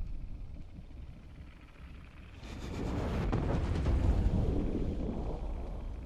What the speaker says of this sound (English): Here comes the explosions.